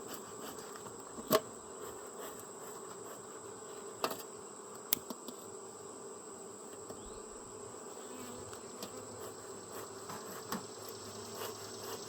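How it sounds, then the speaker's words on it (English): Honey bees buzz steadily around an open hive being smoked, a faint continuous hum with a few sharp clicks and knocks scattered through it. "And get these bees smoked down a little bit"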